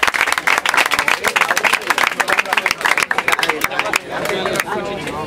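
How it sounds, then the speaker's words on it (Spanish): Loud, dense applause and clapping from a crowd at a Spanish-language freestyle rap battle, honoring both rappers, with dense broadband claps for about four seconds before thinning out beneath crowd murmur and talk. "un aplauso para los dos."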